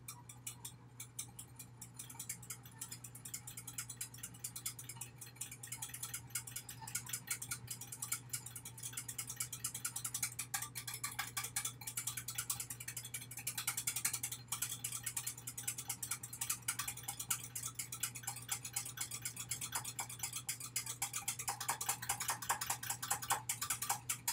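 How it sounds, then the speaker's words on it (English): Miniature whisk beating a mixture in a small bowl for chocolate scones with a Bailey's glaze; rapid, continuous light metallic ticking and rattling, close up and steady, with a low hum in the background. "So, now we take our miniature little whisk here."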